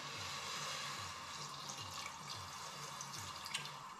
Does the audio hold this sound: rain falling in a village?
no